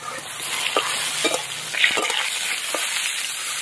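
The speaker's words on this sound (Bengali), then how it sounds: "গুলোকে একটু ভালো করে লাল লাল করে ভেজে নিতে হবে" Eggplant pieces, salted and coated in turmeric, fry in mustard oil in a wok. The steady close sizzle runs throughout, broken by a few scraping stirs.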